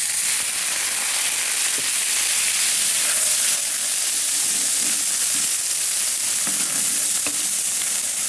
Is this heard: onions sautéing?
yes